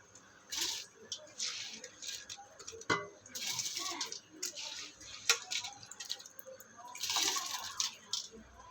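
Drained rice tipped into a pot of mint and coriander biryani makes soft wet pattering and squishing sounds, close by in bursts, with a person talking over it.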